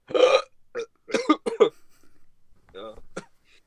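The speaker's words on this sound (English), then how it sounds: "I burped." A loud close burp at the start, followed by a few short throaty vocal sounds and a brief squeaky noise after a pause.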